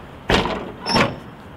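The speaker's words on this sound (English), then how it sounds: "You're going to approach your back door, making sure that it opens and closes freely," The back door of a school bus opens and then closes, giving two loud, close mechanical clunks less than a second apart over a faint background hiss.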